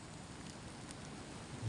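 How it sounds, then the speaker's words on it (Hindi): Rain falling in a mountain village in Uttarakhand during the monsoon, a steady soft patter and hiss of drops on surfaces, continuous and fairly close, with no voices. "और फिर बारिश आ गई है।"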